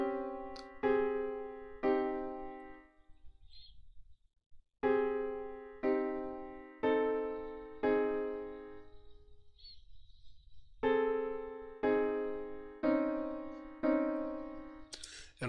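A chord cadence played back in music notation software, a sequence of clean sustained chords struck one after another with gaps between phrases, soft and alone.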